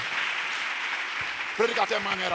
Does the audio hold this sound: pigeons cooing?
no